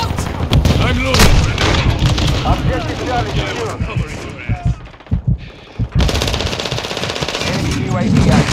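Heavy automatic gunfire and explosions fill a Domination match on the Shipment map in Call of Duty Modern Warfare 2, loud and nearly constant, with a brief lull, as in-game voices shout over the battle.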